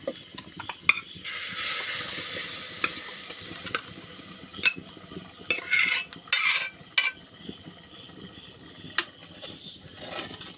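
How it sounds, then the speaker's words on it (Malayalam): Beef is tipped into a pan of masala for beef curry and stirred, giving repeated scraping strokes of a utensil over a steady sizzle, with bursts of louder stirring and occasional clinks, no voices. "ബീഫ് അങ്ങോട്ട് കോരിയിടുന്നു."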